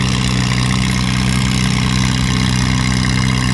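A CA tractor engine at a tractor pull runs with a steady, loud, throbbing drone after the throttle is pulled back, with an even idle-like rumble throughout.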